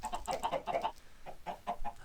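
Blocky Minecraft chickens cluck in a rapid burst of short, close clucks, pause, then give a few more scattered clucks.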